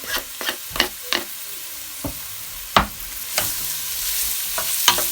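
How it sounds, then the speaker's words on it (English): Spinach and broccoli stirred in a frying pot for broccoli soup: distinct utensil scrapes and clacks strike at uneven intervals over a soft, steady sizzle, close and fairly quiet, with no voices. "Just gonna give it a stir. Just gonna make it brown off a bit."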